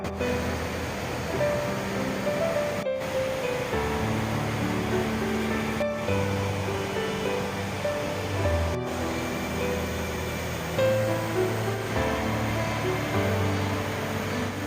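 Clear stream water flows through the rocky Gucheondong valley in Muju, a steady, dense rushing wash that stays constant and close with no voices.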